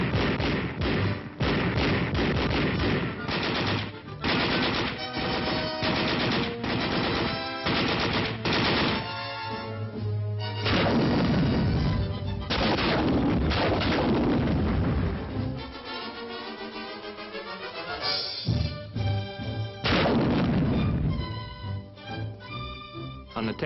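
Small arms and crew-served infantry weapons fire in bursts and single shots during early-1960s West Point summer training, loud and dense throughout, mixed with heavy booms and a continuous orchestral-like backdrop.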